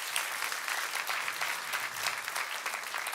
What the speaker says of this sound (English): Did I hear a sound of an applause?